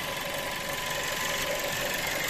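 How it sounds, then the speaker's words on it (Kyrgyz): Steady mid-pitched hum of a running 1.4 turbo car engine at idle under the open hood of a used car for sale, an even continuous drone with faint mechanical vibration and no talk. "Мотору өтө сонун иштеп турат. Байкадыңыздарбы мотордун үнүнө?"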